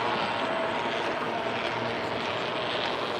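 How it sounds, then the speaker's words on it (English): San Francisco cable car cables on Polk Street rattle and whir under the street, making a steady, loud broadband rumble that fills the whole stretch without a break. "You hear the cable car racket, the cables under the street."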